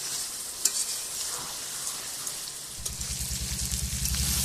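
Duck meat curry sautéed in mustard oil in a pan with a constant close, crackling sizzle. In the final seconds a low rhythmic stirring pulse joins it.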